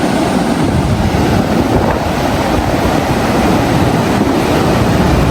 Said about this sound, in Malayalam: വെള്ളത്തിൻ്റെ ഒരു ഫോഴ്സ് ഉണ്ട്.